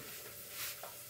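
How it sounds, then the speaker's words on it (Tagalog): Garlic and onion sizzle and crackle in a hot pan, a close, steady frying hiss with a brief stirring scrape, no voices. "na-sweat na yung garlic at saka yung onion"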